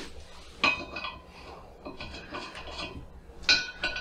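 Metal bolts clink and rattle against one another as they are handled and sorted by hand, with sharp bright jingles at two moments and a softer, continuous rummaging between them.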